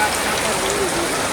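Heavy rain pours in a village near Botad, a loud, dense, continuous hiss of drops on surfaces, with a faint voice underneath.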